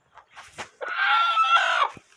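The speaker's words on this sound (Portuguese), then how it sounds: "Esse aqui já veio botar a mãe dos 10 pintinhos, a galinha marrom" A brown hen in a chicken coop, mother of ten chicks, gives a few soft clucks and then a loud, drawn-out cackle close by, with no voices.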